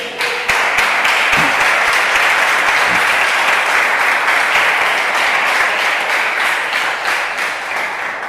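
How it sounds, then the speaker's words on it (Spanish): A church congregation breaks into loud, sustained clapping after a call to applaud the king, a dense roar of hands from a large nearby crowd that swells in and holds steady before easing slightly. "¿Alguien tiene palmas para el rey?"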